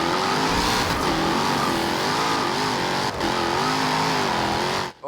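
A race car engine in Forza Horizon 2 revs hard and holds a loud, continuous roar while driving through a tunnel near Castelletto, the pitch wavering as it accelerates, with no talk over it.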